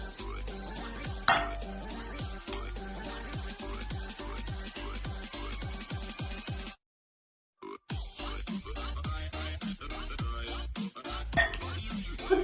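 Boiled potatoes with butter and kashar cheese are mashed with a utensil against a pot or bowl, giving rapid rhythmic clinks and scraping strokes that pause briefly midway and then resume, close and fairly loud.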